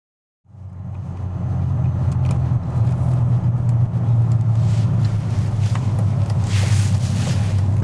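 A 20-year-old 150-horsepower car pulling away: after a brief silence a steady low engine drone rises and holds, loud and close, with wind buffeting over it.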